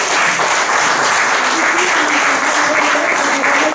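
Sustained applause from an audience at a professional ethics award ceremony, loud and steady throughout, cutting off abruptly at the end.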